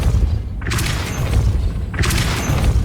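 In the Hogwarts Legacy video game, a Depulso force spell is cast twice, each a loud whooshing boom with a thudding low rumble, one about a second after the other.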